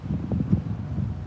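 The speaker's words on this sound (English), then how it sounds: "See, that wind's strong, ain't it?" Strong outdoor wind buffets the microphone in a steady, low, rumbling rush with uneven gusty swells, and no other sound is present.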